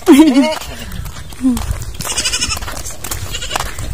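Large farm goats bleat in a few short, wavering calls, loud and near at first, while people talk over the background noise.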